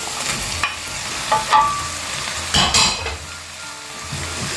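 Prawns dropped into hot oil in a frying pan for mee goreng, bursting into loud close sizzling in a few sharp surges, then settling into a steady frying crackle with light stirring.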